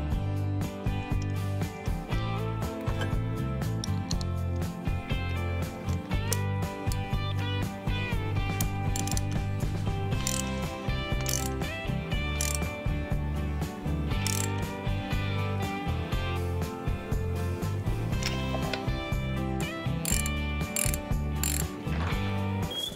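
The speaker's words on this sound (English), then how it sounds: "get her started by hand, tighten it up, and torque it down to 20 foot-pounds." A torque wrench ratchets steadily while a bolt is tightened down to 20 foot-pounds, a close, loud run of rhythmic mechanical clicks that continues throughout with no talking.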